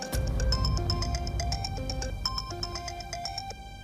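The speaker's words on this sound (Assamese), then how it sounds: "ডক্টৰে ফোন কৰিছে মোক।" A mobile phone rings with an incoming call, playing a bright melodic ringtone of repeating chiming notes in a clear, steady pattern for several seconds in a domestic drama scene.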